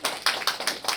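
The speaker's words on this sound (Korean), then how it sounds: "큰 감사의 박수 한번 부탁드리겠습니다" Short bursts of clapping during a Korean local culture symposium in Gunsan, a few loud claps landing in quick irregular pulses with no talk over them.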